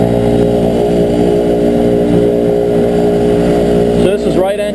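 A twin turboprop King Air U3A starting up, heard from the cockpit as a loud steady engine drone and hum, with a rising whine near the end and a voice speaking briefly over it.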